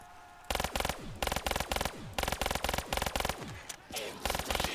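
Close bursts of rapid gunfire from an RK5 burst-fire weapon in a video game, loud clusters of three or four sharp shots repeating in quick succession with brief gaps between them.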